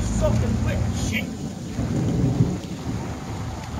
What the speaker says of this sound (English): Oh, thunder's still rolling.